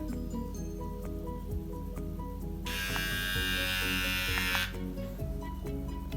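A Mi cordless beard trimmer buzzes with a steady, close electric hum, and a brighter, louder whirring burst lasts a couple of seconds mid-clip before it settles back to the lower drone.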